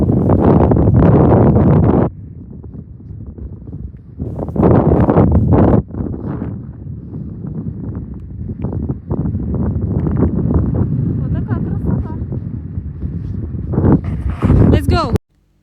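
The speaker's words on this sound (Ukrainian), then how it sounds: "тут був надзвичайно сильний вітер" Heavy wind roars and buffets the microphone in loud surges on a mountain top at the 3-5 Pigadia ski resort in Greece, fading to quieter gusts between bursts before cutting off abruptly.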